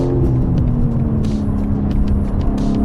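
BMW M4 Competition engine droning steadily while driving, a loud, continuous low rumble filling the whole stretch, with no talk over it.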